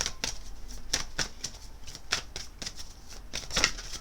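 Chakra oracle cards being shuffled by hand, a quick run of crisp papery riffles and slaps repeating roughly every half second, close and fairly quiet with no talking.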